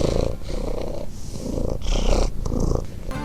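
A cat purring as a sound effect in the video game Bejeweled Twist on PC, a steady close rumbling purr that runs throughout with soft game sounds over it.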